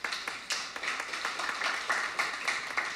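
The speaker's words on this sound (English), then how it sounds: "Can we get a round of applause to a concept" A small crowd at a STEM and tech festival claps steadily, a spread of overlapping hand claps forming light applause throughout.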